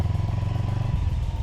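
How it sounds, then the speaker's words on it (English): Motorcycle with a liquid cooled parallel twin engine running nearby, a steady throbbing low idle with a slight rhythmic pulse. "It has a neat sound to it, this liquid cooled parallel twin."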